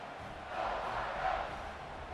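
A large American football stadium crowd roars and cheers in a broad, sustained wash of noise that swells in the middle, distant and echoing.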